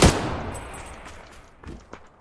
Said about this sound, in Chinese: 刚刚吐了好多枪声啊！